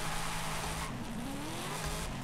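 A Dodge Dart Hemi with over 1000 horsepower launches hard in Forza Horizon 5, with the engine note climbing steadily in pitch over a constant rush of tire and road noise.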